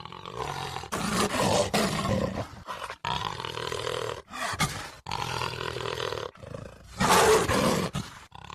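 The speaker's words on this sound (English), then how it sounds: "Jaguar, yes, absolutely. Absolutely the jaguar." A jaguar roars in a series of loud, rasping bursts of several seconds each, separated by brief gaps, the last burst the strongest, with no talk over it.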